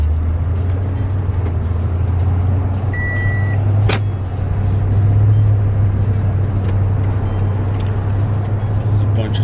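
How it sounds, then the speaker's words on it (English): Rush hour traffic rumbles steadily from inside a 2016 Toyota Tundra on a test drive, a loud low engine and road drone with a brief beep and one sharp click. "There's a bunch of traffic."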